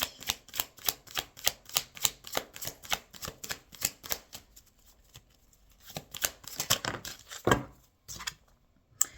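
Tarot cards being handled and shuffled close up, a steady run of crisp rhythmic flicks and slaps, then looser riffling and a louder final shuffle, with no talking.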